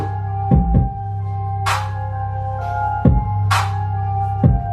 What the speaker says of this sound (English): Kick and the 808, they always go together.